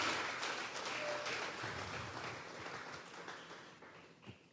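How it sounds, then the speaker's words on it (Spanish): A church congregation applauds, a dense wash of many hands clapping that fades gradually over several seconds, with a faint voice near the end. "Vamos a regalarle ofrenda de palmas al Dios de la gloria."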